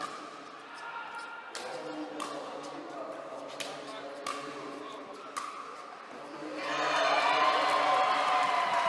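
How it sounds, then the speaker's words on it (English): Spectators at the 2022 World Pickleball Championship men's singles gold match in Bali, Indonesia, cheer for local favorite Jefri. Sharp paddle pops and talk come first, then the crowd's cheering swells and holds toward the end. "they are loud and proud right now, cheering on their Indonesia favorite player, Jefri"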